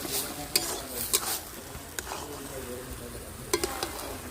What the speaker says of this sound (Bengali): আমি একটু ভালো করে খুন্তি দিয়ে ভালো করে আমি ঘেটে নিচ্ছি